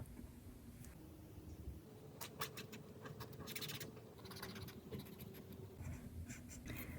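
Soft, close scratching of a pen moving across lined paper in short strokes and taps, faint and steady with a low background hum.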